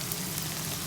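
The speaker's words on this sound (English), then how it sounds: "Right, that's all sizzling down nicely." Onions, peppers and spices for a chunky steak chilli sizzle steadily in a dry pan, a close, even crackling hiss with no break.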